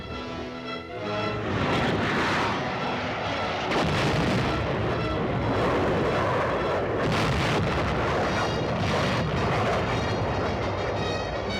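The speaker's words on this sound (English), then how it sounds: "Air and artillery preparation are completed." Artillery fire and air support bombardment in a vintage military training battle scene: a loud, continuous barrage of booming blasts and rumbling explosions with no pauses, with sharp bursts standing out around the four- and seven-second marks.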